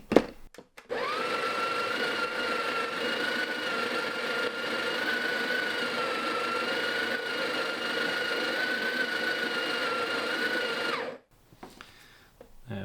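The built-in grinder of an espresso maker whirs through coffee beans, a loud, steady motor drone with a high whine that holds for about ten seconds, then cuts off sharply, followed by a few faint clicks.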